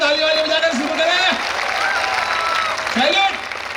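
A crowd at a Hindi comedy show bursts into sustained audience applause, a dense, steady wash of clapping that holds loud for several seconds, with voices mixed in and a brief swell near the end.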